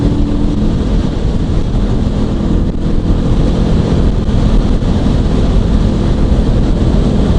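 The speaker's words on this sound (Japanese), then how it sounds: "やっぱ風圧はやっぱりこの辺はね、ネイキッドの特性ですけど、結構きますね。" Heavy wind roar buffeting a rider on a Honda CL500 naked motorcycle cruising at 110 km/h on a highway, a loud, constant broadband rush with no talk over it.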